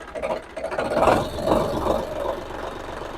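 A cold diesel tractor engine idles with a steady, low, rumbling knock, close and continuous, with no voices.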